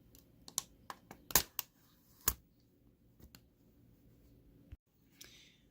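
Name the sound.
prying up Sony Vaio laptop keyboard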